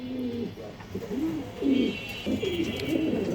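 A breeding pair of Iceberg Damascene pigeons coos in a loft. Repeated low, rolling calls come close and fairly loud, several phrases in a row over a steady background hiss.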